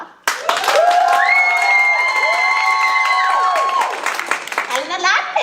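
A school theater audience at a high school production of The Mystery of Edwin Drood bursts into loud applause mixed with cheering and shouts, sustained and close, fading slightly near the end.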